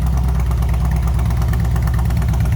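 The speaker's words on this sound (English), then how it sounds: "Nice sounding bike." A 1998 Harley-Davidson Road King Classic motorcycle engine running at idle, a loud, close, steady low-pitched rumble with a rapid even pulse.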